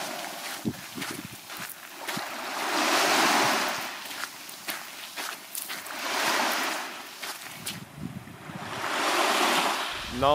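Ocean waves wash onto a beach on the Gaspé coast near Petite-Vallée, with sea wind blowing. Three slow swells of surf rise and recede in turn, close and fairly loud, between brief quieter lulls.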